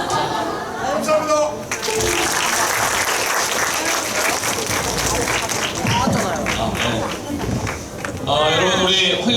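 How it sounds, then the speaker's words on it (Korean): Audience at a September vision concert applauds a classical singer, with dense sustained clapping filling the whole stretch, broken by brief louder bursts and a few cheers. "우리 뜨거운 박수로 다시 한번 감사의 마음을 보내주시기 바랍니다"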